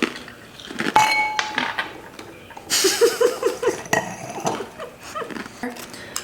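A sharp clink of glasses in a toast rings out early, followed by scattered clatter of dishes and more light clinks amid background noise.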